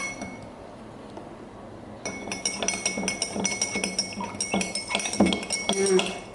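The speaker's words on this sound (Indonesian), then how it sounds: "Kita campur dengan ini garam. Nah, kita aduk." A spoon stirs salt into water in a glass, producing repeated light clinks and taps against the glass that grow busier after a quiet start, with faint talk in the background.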